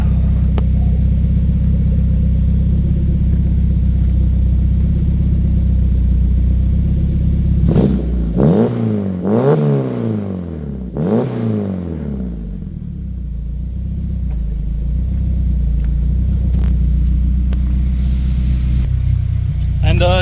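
Turbocharged K24 engine in a Toyota AE86 idles with a steady, hunting low rumble at the exhaust, broken by three sharp revs in the middle before settling back to idle.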